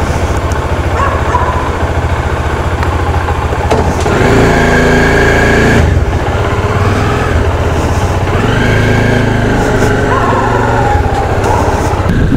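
A car engine idles nearby at the start of a road trip toward Gir Forest, a steady low rumble with a couple of revving swells midway.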